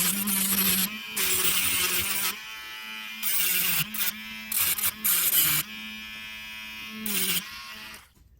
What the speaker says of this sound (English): I'm going to use my little grinder just to get rid of all the rough edges